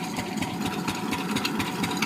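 A water-pump engine runs in a village, giving a steady, loud, continuous mechanical drone with an even idling throb throughout, no voices over it.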